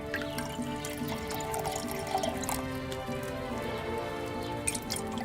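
Liquid is poured during alchemy in the video game Kingdom Come Deliverance 2, heard as a close, trickling stream with scattered drips and splashes over a faint tonal backdrop.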